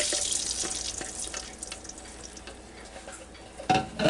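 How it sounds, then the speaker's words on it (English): Beef broth pours into a Ninja Foodi Deluxe pot for a pot roast, a steady near liquid splash that runs for several seconds, then fades lower before a brief louder burst near the end. "now we'll dump my cup and a half of beef broth down"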